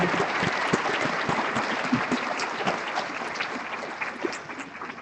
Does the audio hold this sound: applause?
yes